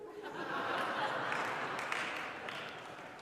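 A church congregation claps and laughs softly at a Unitarian Universalist Mother's Day service, a diffuse, fairly distant patter of applause mixed with chuckles that swells and then tapers.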